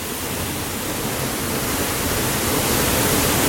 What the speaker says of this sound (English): I'm like literally underneath the waterfall right now.